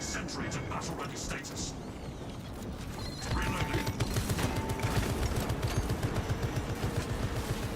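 Rapid turret gunfire from the Space Marine video game, a dense run of repeated shots that grows louder and steadier partway through, heard under a voice talking.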